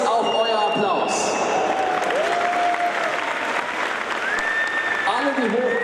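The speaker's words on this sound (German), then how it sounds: "Und das ist auch euer Applaus." A crowd at Gamescom 2014 applauds the costume contest participants, with loud continuous clapping and some cheering filling the hall, and whistles rising over it now and then.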